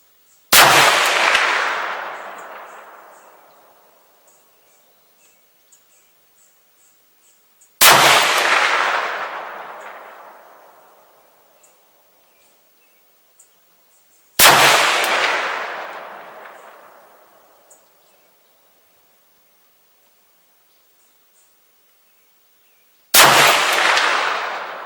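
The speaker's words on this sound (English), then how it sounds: "Let's shoot our next 5-round group and see how it looks compared to that." Single shots from a 6.5 Grendel rifle on a range: four loud, sharp reports spaced several seconds apart, each followed by a long fading echo, with quiet pauses between them.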